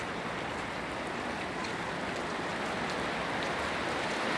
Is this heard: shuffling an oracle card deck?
no